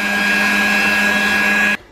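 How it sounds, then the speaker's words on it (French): Electric hand mixer whipping cream for a vanilla mousse, a steady, loud motor whine with a sustained tone that runs continuously and then cuts off abruptly near the end. "Je fouette ma crème avant de l'incorporer à ma crème anglaise."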